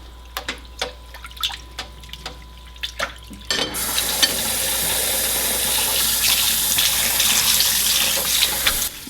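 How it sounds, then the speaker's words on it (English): Rice vermicelli noodles are rinsed in cold water: a few soft clicks and handling noises, then a steady rush of running tap water with splashing and stirring that continues to the end. "I do like to rinse this in cold water about 2 times."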